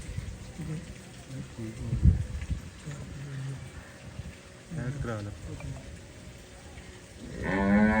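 A Cholistani cow moos near the end, a deep drawn-out low call, after a stretch of people talking with background noise.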